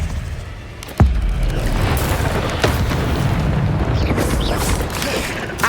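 An Expelliarmus spell is cast in the Hogwarts Legacy video game: a sharp, loud boom hits, then a dense roaring rush of magical energy sustains without letup to the end.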